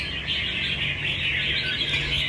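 A songbird calls with bright, sustained high chirping and squawky notes, close and loud over a low background hum, without any talk.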